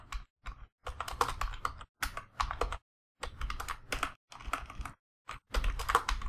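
Keys clatter steadily on a computer keyboard as Python code is typed, in quick close-up bursts with brief pauses between.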